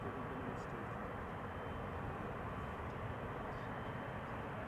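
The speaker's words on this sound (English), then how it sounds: "in the meantime, just now has taken off from the center runway" Airliner taking off from the center runway at Amsterdam Schiphol airport, heard as a steady, dense jet engine roar that stays constant and fairly distant throughout, with no clear voices over it.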